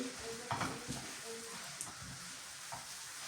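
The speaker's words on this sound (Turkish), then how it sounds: "sürekli yağda kızartacağım" Hot oil crackles and sizzles steadily, with a few clinks and stirring scrapes of a utensil in the pan.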